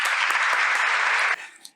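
Applause sound effect: a dense, bright wash of many hands clapping at an even level that cuts off abruptly, leaving a brief faint tail.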